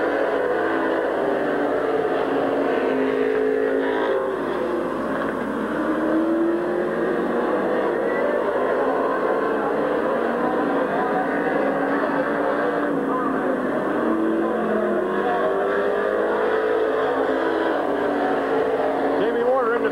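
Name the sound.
race cars racing around a speedway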